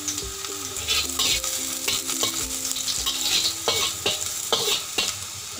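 Onions fry in a pan for a Chinese spinach stir-fry, a loud continuous sizzle broken by repeated spatula scrapes and clinks against the pan, close up with no voices.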